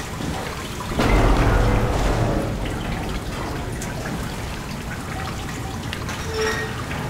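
Water runs and trickles in the SOMA video game, a steady splashing pour that swells loudly for a moment, then settles into a continuous wet hiss with scattered drips.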